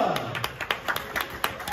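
A small comedy show audience in Milwaukee claps for a comedian, quick scattered hand claps that come in uneven bursts and stay fairly faint and close.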